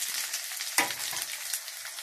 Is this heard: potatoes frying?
yes